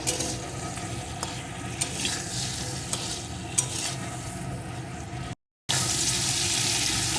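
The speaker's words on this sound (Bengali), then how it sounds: "এখন কুমড়োটাকে সুন্দর করে ভেজে নেবো" Pumpkin pieces sizzle and fry in a pan while being stirred, with scraping spatula sounds over continuous crackling, briefly cut out before the frying resumes loudly.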